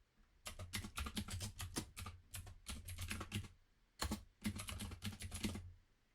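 Close, steady typing on a computer keyboard while entering a ProtonMail login into a password generator, rapid key clicks in two bursts with a short pause between, no voices.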